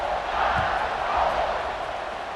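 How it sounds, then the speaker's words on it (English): In EA Sports College Football 26, a stadium crowd roars steadily at kickoff after a touchdown drive, a dense, sustained wash of cheering that holds at a constant level throughout. "this crowd is feeling themselves after that last drive"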